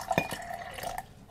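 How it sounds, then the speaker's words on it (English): Water pours into a cup during a drinking challenge, a brief liquid trickle and drip with a faint glassy clink, close and quiet. "Actually, I can pour some water in here."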